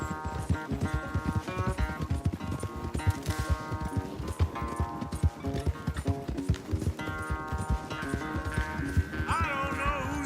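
Horses galloping in a race in the game Red Dead Redemption 2, rapid hoofbeats pounding continuously throughout under loud orchestral music, with a brief vocal sound near the end.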